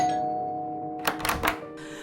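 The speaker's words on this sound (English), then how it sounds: "wrestling with her emotions, Zoey rang the bell" A doorbell rings at a house door, a couple of bright chime strikes close by near the end, heard alone over a faint hum.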